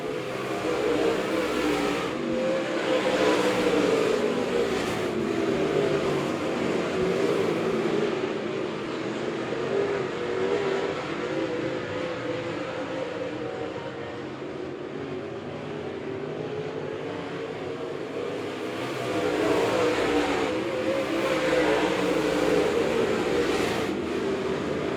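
Late model race cars roar around Monett Motor Speedway dirt oval, a continuous engine drone swelling and fading as the pack passes through the turns, loud and unbroken with no talk.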